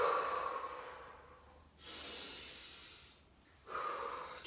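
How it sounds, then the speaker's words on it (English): Slow, deep breathing of a person resting between burpee rounds in a workout, two long breaths close to the mic: a hushed inhale and a longer airy exhale, then the next inhale beginning. "Good, slow deep breaths."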